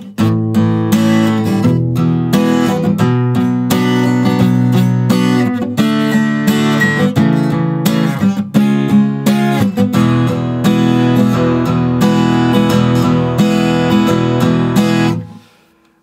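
Guitar strumming through several bars, full rhythmic chords with regular downstrokes and a few changes, close and loud for about fifteen seconds before ringing out, no speech.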